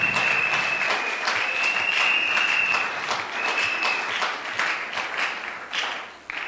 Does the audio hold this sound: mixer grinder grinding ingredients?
no